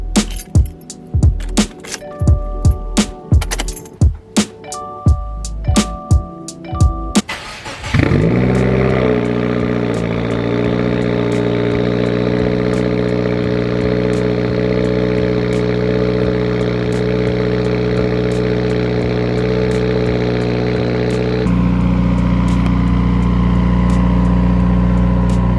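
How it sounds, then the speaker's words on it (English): Keys jingle and a door clunks before a 2020 Subaru WRX Stage 2 starts cold with a loud surge, then settles into a steady, raspy high idle that drops slightly in pitch toward the end. "we got to do the usual cold start of the WRX. This thing is so loud on startup in the morning."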